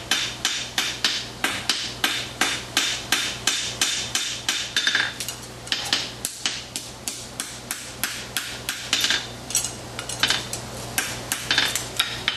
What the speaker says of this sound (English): I got a nicer, sharper edge on this other clipping hammer